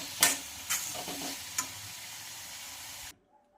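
Radish chutney with finely chopped coriander being mixed in a bowl, a few distinct scraping stirs with soft clicks near the start, then a steady quieter mixing rustle until it stops abruptly.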